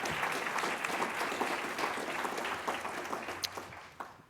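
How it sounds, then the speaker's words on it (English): Steady applause from a conference audience, dense clapping that holds throughout and tapers slightly toward the end. "Please give them a big, big round of applause."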